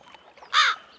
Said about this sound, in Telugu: ఏంట్రా ఆ కాకి చావు చావు నరుస్తుంది?